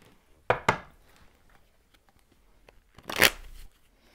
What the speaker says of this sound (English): I've shuffled all the decks beforehand, so it's extra shuffling.